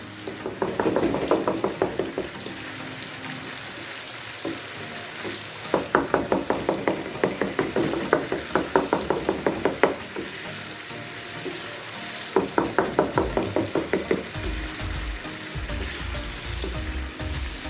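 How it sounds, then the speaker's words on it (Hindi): Eggs frying and being stirred in a karahi, with a steady sizzle and bursts of rhythmic spatula scraping and knocking against the pan in three clear runs, close and loud. "अंडे शामिल कर लेंगे और लगातार इसको इसी तरह चलाते रहेंगे ताकि जो अंडा है वो एक जगह पे ना ठहरे"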